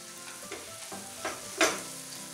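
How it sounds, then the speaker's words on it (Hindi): Poha sheera with dry fruits being stirred in a pan, a spoon scraping in soft, irregular strokes with a few louder scrapes near the end over a faint background hiss. "अच्छी तरीके से मिला लेंगे।"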